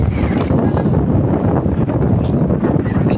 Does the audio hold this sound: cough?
no